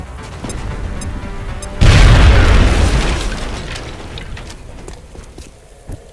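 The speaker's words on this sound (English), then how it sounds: "Now toss your grenade at the enemy in front of you." A heavy grenade blast from the video game XCOM bursts in loud and sudden, its deep rumble rolling out and fading over several seconds, with faint clicks before and a small thump near the end.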